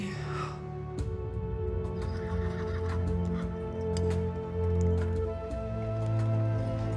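A horse whinnies in the horse-riding video game Star Stable: a short, high whinny at the start, followed by steady game ambience with tonal music-like hums and light clicks.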